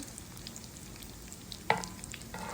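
Donut kebabs frying in oil over a low-medium flame, a soft steady sizzle with a sharp clatter of a utensil partway through, close but quiet, no talk.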